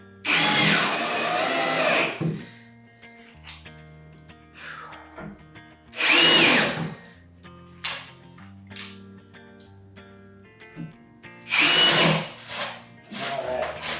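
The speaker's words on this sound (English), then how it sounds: "I'm going to put these screws back in to make sure everything stays where I" A power drill drives screws into a glued wooden joint on a homemade Halloween coffin, in three loud whirring bursts near the start, middle and end, with quiet gaps between where tools are handled.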